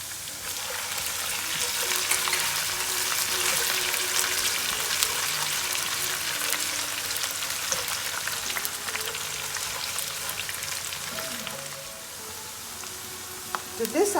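Small pieces of ginger fry in a pan for a spicy chickpea curry, with a continuous close sizzle, faint stirring and occasional spatter throughout.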